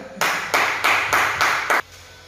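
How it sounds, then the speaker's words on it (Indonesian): Classmates in a classroom clap for a student group after its presentation, five loud synchronized bursts of clapping in an even rhythm, each cut off sharply, followed by a quieter room. "Kita beri tepuk tangan dulu untuk kelompok"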